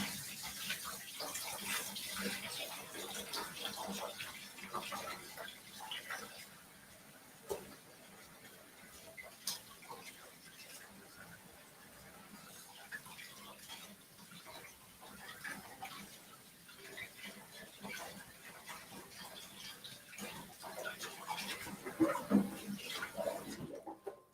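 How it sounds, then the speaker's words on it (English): Young Thai coconut meat rinsed under a running tap in a kitchen, a steady broadband rush of flowing water with small splashes and clatter throughout, fairly faint and continuous. "I'm going to just rinse off it's okay if you have some of those fibers on it"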